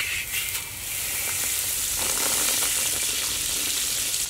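Butter sizzles and fries steadily in a hot pan while a mud crab dish with green onion is prepared, a continuous close hiss with no talking.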